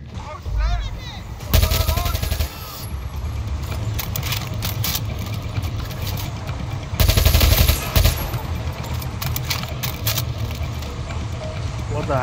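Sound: gunfire in a video game

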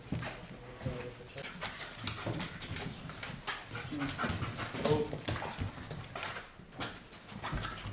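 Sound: Belgian shepherd dog panting and whimpering

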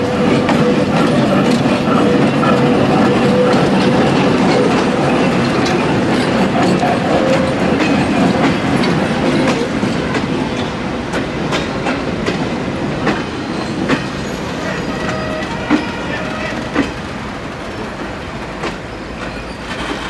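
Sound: train passing

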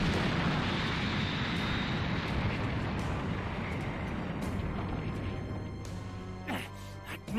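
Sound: Majin Buu blowing up a city, Dragon Ball Z Kakarot video game

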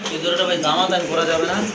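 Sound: pigeons cooing

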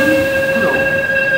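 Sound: Korail Line 1 subway train arriving at Sindorim station

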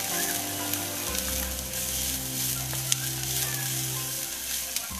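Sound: spring onion and onion sautéing in a pan

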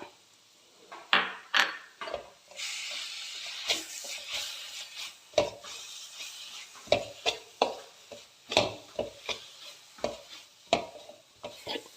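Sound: frying and stirring crushed ginger, garlic and green chilli

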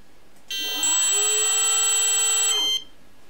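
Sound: RC motor spinning under ESC speed control

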